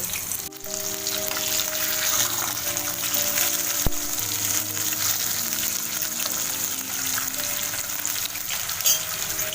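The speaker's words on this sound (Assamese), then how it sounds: "এতিয়া মাছ 2 পিচ মই ইলুটি কৰি ভাজি ল'ম আৰু গেছৰ ফ্লেমটো হাই ৰাখিব।" Two pieces of fish sizzle and crackle steadily in hot oil over a high gas flame, a dense, continuous frying hiss close by with no talking.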